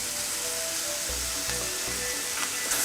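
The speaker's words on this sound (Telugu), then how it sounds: "ఇప్పుడు ఎగ్స్ కూడా వేస్తున్నానండి." Eggs go into a sizzling pan of prawn and okra curry in a village kitchen, with steady hot oil frying and faint stirring scrapes throughout, no voices.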